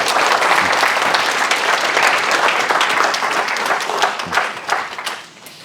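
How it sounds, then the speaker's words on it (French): Sustained audience applause fills a church gathering in honour of a group of teenagers, loud and steady throughout before thinning out and fading near the end. "On peut encore les applaudir."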